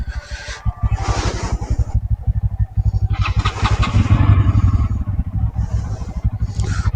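A Bajaj Pulsar NS 200 motorcycle, started after two months parked, idles with a steady rapid thumping pulse, loud and close, with brief louder revs in between.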